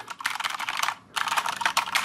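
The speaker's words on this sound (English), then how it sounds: "typing on the K70 is pretty good." Rapid typing on a Corsair K70 Pro mechanical keyboard, a dense run of loud, close key clacks that pauses briefly before resuming, with no talking.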